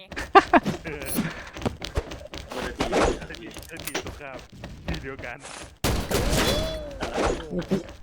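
Gunfire in the first-person shooter XSHOT: repeated sharp shots and short bursts crack close by at an irregular pace, with a louder stretch near the end, while voices talk over the action.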